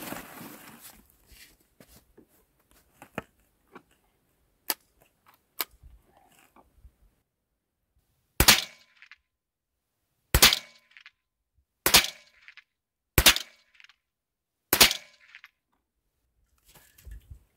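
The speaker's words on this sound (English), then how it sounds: "let's head to the farm and do some shooting" Rimfire shots from Marlin 60 and 795 rifles fired at 20 yards: five sharp cracks spaced one to three seconds apart in the second half, after a few faint clicks and taps in a quiet outdoor setting.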